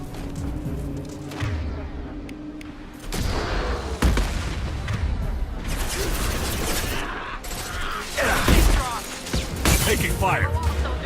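Gunfire and booming impacts from a firefight in the video game Mass Effect 2, with sharp shots and blasts recurring throughout under spoken combat callouts.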